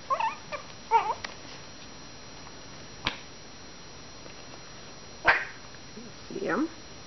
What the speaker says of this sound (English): Puppies are out playing.